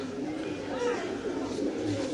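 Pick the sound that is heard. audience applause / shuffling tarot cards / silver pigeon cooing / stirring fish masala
silver pigeon cooing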